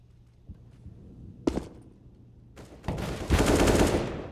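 Gunfire in a Counter-Strike-style esports match, isolated sharp shots early on, then a dense burst of rapid fire building toward the end.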